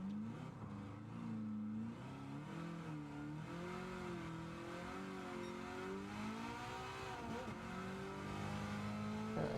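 Car engine revving hard in the racing game Gran Turismo 7, a loud, steady high-revving drone that climbs and dips through gear changes, alone with no talk over it.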